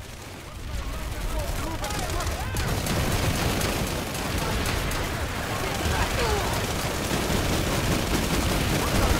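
Rapid gunfire and booms from a first-person shooter match, continuous and loud throughout, with players talking over the shooting.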